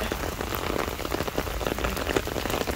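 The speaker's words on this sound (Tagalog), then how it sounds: "Kasi malakas yung ulan." Heavy rain pouring down in Hong Kong, a dense, steady hiss of drops hitting hard surfaces close by, loud and continuous with no talking.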